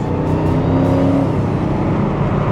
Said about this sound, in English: listen to it, the supercharger comes on